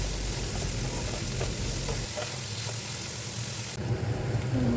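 Mixed vegetables stir-fried in hot refined oil for homemade egg and veg chowmein give a steady, close sizzle with scraping stirs, loud and continuous, no talk.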